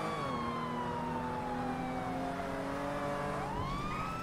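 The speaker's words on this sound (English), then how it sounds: "I don't even know how to stop these fucking sirens." A police car siren in the GTA NoPixel video game wails steadily and loudly throughout, its tone slowly falling and then sweeping back up near the end over the car's engine.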